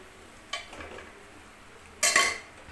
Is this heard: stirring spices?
yes